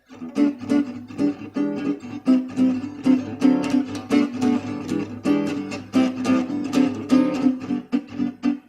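A jazz guitar intro in G, strummed as rhythmic chord hits with a steady swinging pulse, played alone, close and clear without any talking.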